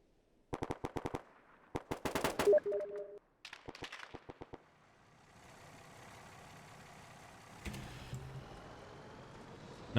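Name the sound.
machine gun fire in video game ARMA 3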